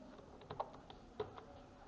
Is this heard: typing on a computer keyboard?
yes